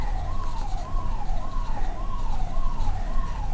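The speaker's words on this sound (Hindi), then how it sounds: "शायद एम्बुलेंस जा रहा है तो इसलिए वो नॉइज़ आ रहा है" Wailing siren from an ambulance passing outside, rising and falling in steady repeated sweeps over a low rumble of traffic, fairly loud and continuous with no talk.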